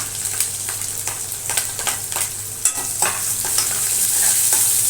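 Chopped onion frying with garlic and curry leaves gives off a steady crackling sizzle, marked by repeated stirring scrapes and clinks in a pan up close.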